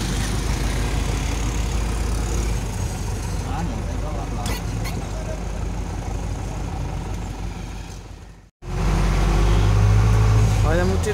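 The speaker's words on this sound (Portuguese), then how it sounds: "Olha a multidão de motos, gente," Busy street traffic rumbles steadily with many motorcycles and vehicle engines passing close by, loud and continuous, briefly cut off near the end before resuming with someone talking over the traffic noise.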